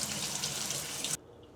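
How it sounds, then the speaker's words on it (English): Cold tap water runs over cucumbers in a sink, a loud steady splashing stream that cuts off abruptly near the end, leaving near silence. "I'm going to rinse these good under cold running water."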